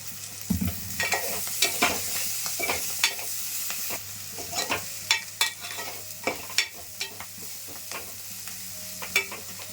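Onions frying in a pan for a cucumber and tomato curry, a steady sizzle broken by frequent scraping spoon stirs, close and clear, no talking.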